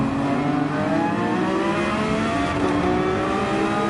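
A race car engine in Gran Turismo 7 revs steadily under throttle at Brands Hatch, a loud, sustained harmonic whine rising slightly in pitch, with no talking.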